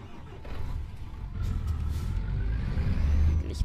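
Truck engine in Euro Truck Simulator 2 rumbling low and steady at close range, rising slightly in level toward the end and closing with a short sharp hiss.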